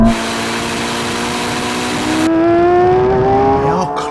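A Lamborghini Revuelto and a Ferrari SF90 accelerate hard in a rolling drag race from third gear, with a loud rising engine howl that climbs in pitch and swells as they pull away.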